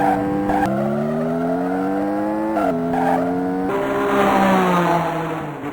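The Phantom Photon ghost car in the 1989 racing video game Hard Driving drives with a loud, steady synthesized engine tone that climbs in pitch, dips at gear shifts, then climbs again.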